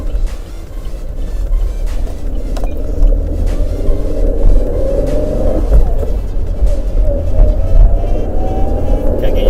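A Hyundai Veloster Turbo with a manual clutch is driven on the road, its engine and tyre rumble loud and steady from inside the cabin, with no talking.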